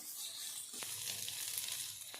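Tomatoes frying in a pan for thakkali sambar, softening in oil; a quiet, even sizzle with two brief stirring scrapes, heard faintly and alone.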